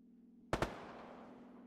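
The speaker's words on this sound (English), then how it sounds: "Frag out." A frag grenade goes off in the military shooter Arma 3, two sharp close blasts in quick succession with a decaying rumble over a faint steady hum.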